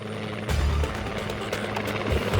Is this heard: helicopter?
yes